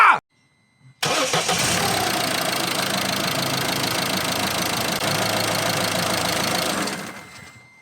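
A Peugeot Partner 1.6 HDi diesel van engine, freshly serviced with new oil, cranks briefly after a short click and catches, settling into a loud, steady, rattly diesel idle that runs for several seconds before cutting off.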